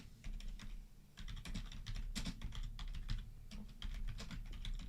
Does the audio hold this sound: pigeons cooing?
no